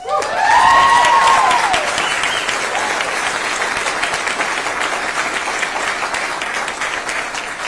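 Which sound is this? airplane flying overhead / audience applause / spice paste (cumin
audience applause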